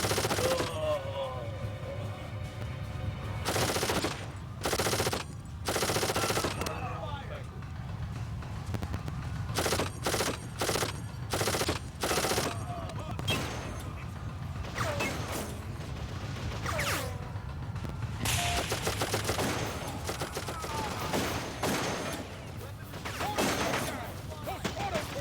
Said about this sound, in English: Those auto turrets will tear you to pieces.